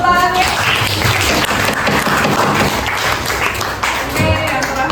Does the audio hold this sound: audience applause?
yes